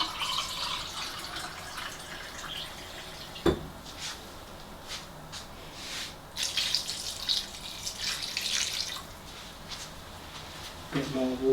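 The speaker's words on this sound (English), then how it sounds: "add some more water" Water pours into a pan of homemade Chinese chicken curry, a steady faucet-like splashing stream with a sharp clink partway through and a brief clatter at the end.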